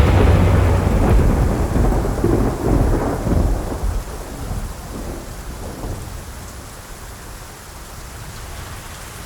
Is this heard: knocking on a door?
no